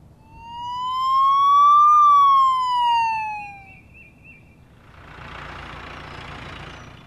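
A loud wailing fire engine siren rises and falls in sweeping tones, then gives way to a rushing hiss of engine and air noise.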